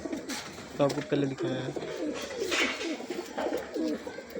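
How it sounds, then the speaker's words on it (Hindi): Pigeons coo in a low, repeated pattern at close range, the male a prized breeding bird beside a Sharki hen and a blue cock, while someone talks over the calls. "माशाल्लाह जी बहुत अच्छा कबूतर है ये"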